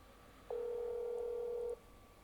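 Single steady telephone dial tone from a phone in the horror game That's Not My Neighbor, clear and alone for just over a second against quiet background hum.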